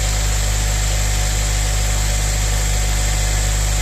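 A Honda Civic Type R (EP3) engine idles steadily and loudly after a water pump replacement, a constant low rumble with a smooth, unchanging hum and no voices.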